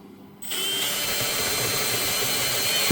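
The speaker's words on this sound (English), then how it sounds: "3/16 drill bit." Power drill fitted with a 3/16-inch bit, used while rigging a Crescent Shoalie boat: starts abruptly after a short quiet moment, then a steady, loud, close whine that runs to the end.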